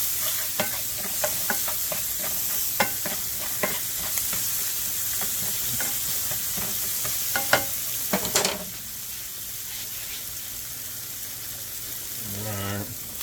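Steak frying in a pan for country fried steak, stirred with a wooden spoon: a steady broadband sizzle with repeated scraping spoon strokes for about eight seconds, then a quieter sizzle and a brief clatter near the end, with some talk.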